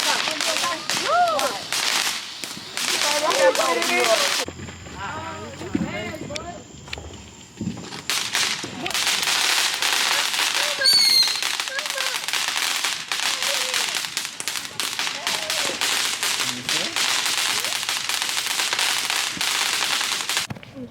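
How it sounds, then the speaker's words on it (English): Small fireworks and firecrackers set off by kids at a Fourth of July gathering, rapid crackling pops and bangs in dense bursts almost throughout, with a short lull partway. "I'm trying to get them some time to pop the big fireworks, but they still messing with these kids, like these kids baby fireworks"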